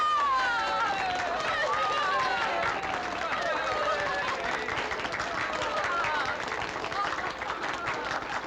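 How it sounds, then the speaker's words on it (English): Steady crowd applause for Madame Claudia Micheline in a 1963 wartime French village scene, continuous and dense, mixed with crowd murmur and a voice over it. "Here's the one they should clap for."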